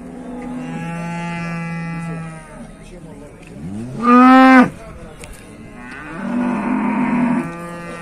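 Cattle at a livestock market in Beylagan lowing, with several long, loud moos in sequence, one rising sharply and closer than the others, against faint background chatter.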